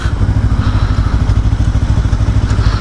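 A motorcycle braking on a highway at night, its engine a loud, steady low rumble with a rhythmic throbbing pulse that carries on throughout.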